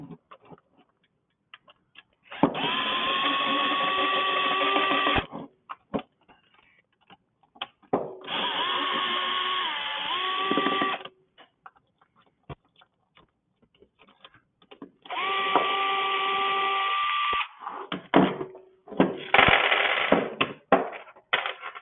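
A power tool spins out bolts during a two-stroke engine teardown, firing in four distinct whirring bursts of a few seconds each, separated by quiet gaps holding small clicks and ticks of handling.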